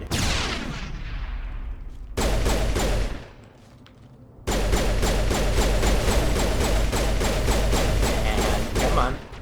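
Sustained rapid gunfire from the video game Mass Effect rattles in long, loud, dense bursts, broken by a short lull before the firing resumes.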